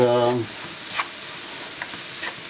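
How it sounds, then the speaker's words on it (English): Ginger, garlic and green chili fry in a pan with a soft, low sizzle. A few faint stirring taps sound over it, after a brief voice at the start. "Let it fry for about 2-3 minutes"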